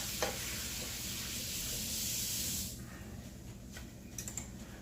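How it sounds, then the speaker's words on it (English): Garlic and ginger sizzle loudly with ground lamb in a hot pan, a dense steady frying hiss that drops to a quieter crackle partway through, with a few light scraping clicks near the end. "see how it's starting to sizzle now?"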